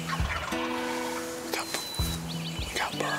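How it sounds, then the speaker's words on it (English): Wild turkeys gobble in a draw on a spring hunt in Georgia, with several rattling gobbles from birds at some distance amid light rustling outdoors. "We got birds gobbling in the draw below us."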